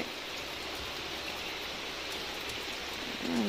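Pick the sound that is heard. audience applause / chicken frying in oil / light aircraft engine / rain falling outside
rain falling outside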